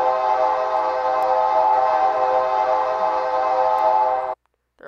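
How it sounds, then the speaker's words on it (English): A loud, steady train horn from a remote-controlled toy train blares continuously for about four seconds, then cuts off abruptly, leaving near silence. "You can also honk."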